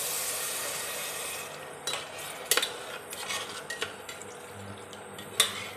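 Milk pours with a rushing sizzle into a hot pan of ghee-fried rice for kheer, then a spoon clinks and scrapes against the metal pan several times, close and fairly quiet.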